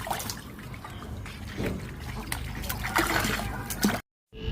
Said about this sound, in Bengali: এখন হচ্ছে আমরা বাঁশগুলো ধুয়ে নিচ্ছি